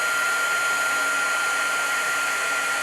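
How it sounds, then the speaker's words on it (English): A heat tool blows steadily at full power to melt embossing powder on a handmade card, a constant airy whirring roar that stays even and close throughout with no talk over it. "when you're heat setting, heat set through the bottom, because you can blow off your heat embossing powder"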